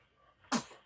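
A single small, sharp sneeze from an infant, quick and close, in an otherwise quiet room.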